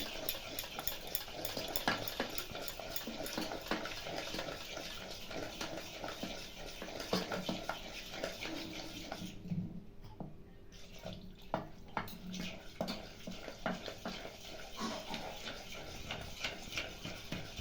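A thin maida flour batter for aloo paratha is beaten briskly in a bowl, giving a steady stream of quick, close tapping and clicking strokes, with a brief lull partway through.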